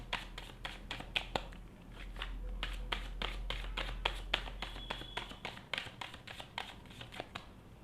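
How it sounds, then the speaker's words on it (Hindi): A deck of tarot cards is shuffled up close, producing a quick series of crisp riffling taps and flutters in an irregular rhythm, fairly quiet with no talking. "चलिए कार्ड्स को शफल कर लेते हैं"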